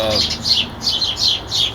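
Several birds squabble in a fight, giving repeated harsh chirping calls in quick bursts, close by and fairly loud.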